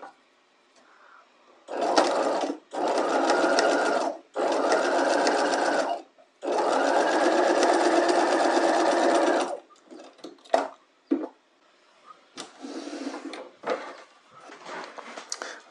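Sewing machine stitching across the top of folded knife pleats in fabric, running in four steady bursts of whirring, the longest near four seconds, followed by short stop-start taps and brief runs, close and loud with no talk.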